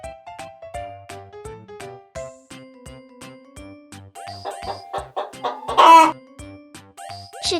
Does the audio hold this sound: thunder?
no